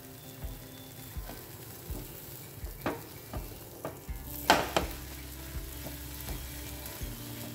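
Food for a homemade tiffin sizzles steadily in a pan after being flipped, with soft scrapes and taps from a spatula spaced through the frying, close and moderately quiet, with no voices.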